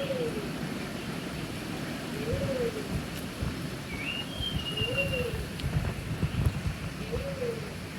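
Soft, repeated bird coos recur every second or so over steady background hiss and rain-like noise, with a thin whistle briefly in between, at a zoo.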